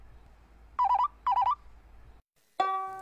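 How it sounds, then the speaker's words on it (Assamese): A telephone rings at a police outpost in a comedy scene: two short electronic ring bursts, a pause, then a sustained tone that starts sharply and holds, with no talk over it. "ফোনটো ধৰক কোনোবা বিপদতো পৰিব পাৰে"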